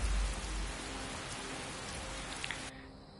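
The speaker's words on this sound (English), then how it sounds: "Let's head back out into the rain." Steady, dense rain pattering on surfaces in Skyrim, loud and close, with a faint low rumble beneath before it cuts off abruptly.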